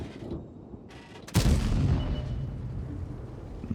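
A single heavy cannon shot from an Object 260 tank in World of Tanks, fired blind, booms loudly after a quiet lead-in and then rolls off into a long fading rumble, with no talk over it.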